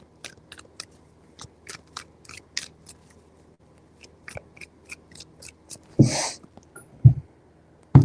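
Tarot cards being shuffled by hand, three rounds of quick papery riffles and taps building to louder bursts near the end, close and alone with no talking.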